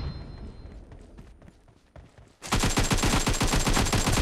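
Rapid bursts of automatic gunfire from the battle royale video game PUBG erupt loudly after a quieter stretch, continuing as a dense, sustained volley through the end.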